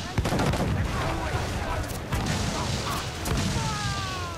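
Ship cannons boom repeatedly during a naval battle with a man o' war in the video game Assassin's Creed 4 Black Flag, dense overlapping blasts and crashes filling the mix.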